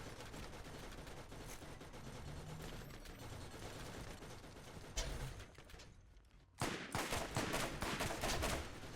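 A turret fires on the player in the video game Borderlands with dense, continuous bursts of gunfire. There is a short lull before loud, rapid firing resumes close by.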